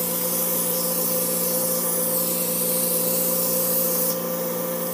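An airbrush sprays water in a constant, even hiss with a faint steady hum beneath, unbroken for the whole stretch and close by.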